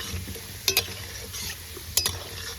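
Potatoes fry in a pan with a soft, steady sizzle. Two sharp scrapes of a spatula or spoon stirring against the pan stand out, and there is no talking.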